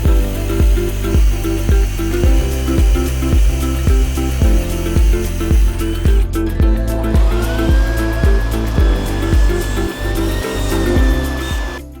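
Power drill boring a hole into an LS engine block to a marked bit depth, running loudly and steadily with a rapid regular pulsing, its pitch shifting slightly partway through as the bit cuts.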